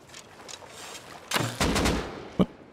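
Gunfire in the Rust video game, a few sharp close shots and short bursts cracking over quiet background, ending with one loud single report.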